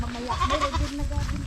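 A goat at a goat seller's in Marabong gives a wavering, nasal bleat that fills the short moment, close and fairly loud over steady background noise.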